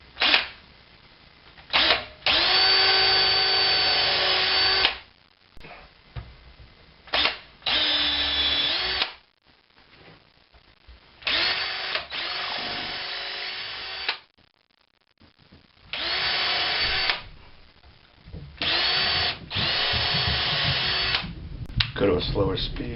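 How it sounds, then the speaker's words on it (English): A power drill bores clearance holes in a Kalamazoo amplifier cabinet, running in several loud, steady bursts of a few seconds each with short quiet gaps between them. Faint handling noises fill the pauses. "Go to a slower speed for the clearance drill."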